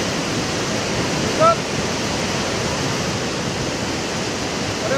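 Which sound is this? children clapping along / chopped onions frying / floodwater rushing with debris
floodwater rushing with debris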